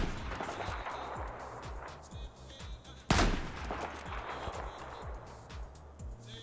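Rapid gunshots ring out in the Battlefield 4 test range, a string of video game rifle fire with one sharp, loud blast in the middle.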